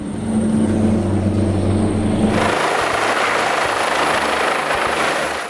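A rescue helicopter flies close by with a loud, steady rotor thrum and engine whine that shifts in tone partway through as it passes.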